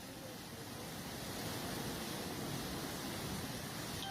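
Floodwater swollen by heavy rain rushes against an earthen embankment and washes it away, a continuous loud, broadband roar of churning water that holds steady without a break and with no voices.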